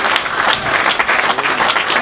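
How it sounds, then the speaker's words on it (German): Steady applause from an audience at an ice hockey press conference for EHC Freiburg versus IceFighters Leipzig, dense clapping filling the whole stretch at an even level with no talk over it. "Noch ein Applaus,"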